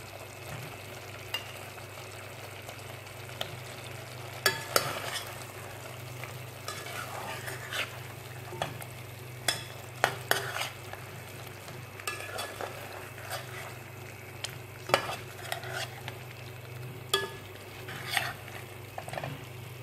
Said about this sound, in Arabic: أحط الدجاج عشان يطبخ ليا